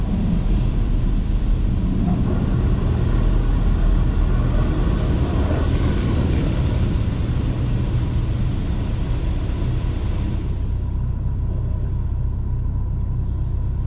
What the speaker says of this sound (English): I went for a premium car wash.